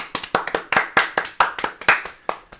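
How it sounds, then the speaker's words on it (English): A single person claps about a dozen times in an irregular rhythm on a hobby live stream, close, crisp and dry, with no other sound between the claps. "Round of applause."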